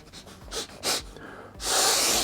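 Several short, breathy nasal sniffs spaced irregularly, ending in a longer, louder sniff; close and fairly quiet with no talking.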